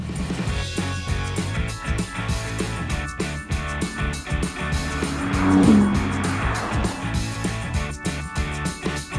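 A Porsche 911 GT2 RS and a Mercedes-AMG Black Series drive off together. Their engines drone steadily and loudly throughout, rising into a brief surge of revs with a hint of tyre noise about midway, and no one speaks.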